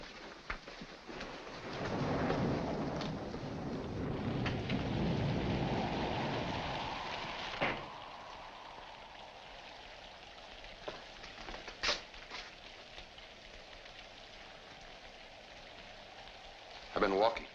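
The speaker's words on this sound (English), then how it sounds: "In this rain? Yes, in this rain." Heavy rain pours steadily with a low roll of thunder early on, then eases to a softer hiss broken by a few sharp cracks and thumps, heard from indoors at a moderate distance.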